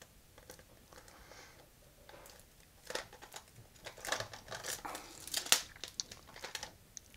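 Cassette tape packaging torn open by hand, with irregular crinkling, crackling and ripping bursts that grow busier and louder toward the end, close and fairly quiet.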